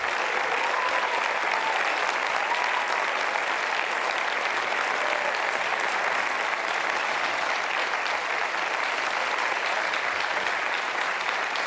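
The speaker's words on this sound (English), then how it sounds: "Please give them a big round of applause." Dense, sustained applause from a large audience at a democracy summit, an even roar of many hands clapping at once from start to finish with no breaks and no speech.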